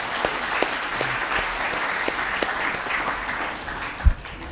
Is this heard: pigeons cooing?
no